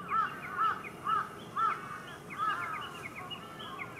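A crow caws five times in a steady, evenly spaced series, loud and close, followed by fainter bird calls trailing off at the end.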